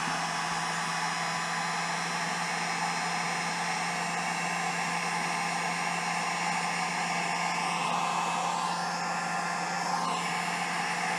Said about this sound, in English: Alright, so now we're going to use the heat gun. I'm going to heat this end up.